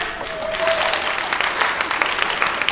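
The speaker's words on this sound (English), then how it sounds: "Come clap for the winners." Audience applause for hackathon winners at a women's tech event, a steady wash of many hands clapping that fills the whole stretch with a few sharper claps standing out.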